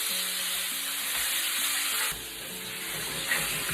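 Marinated chicken sizzles steadily in a pan with a little oil, a loud, even hiss that dips slightly partway through, with no talking.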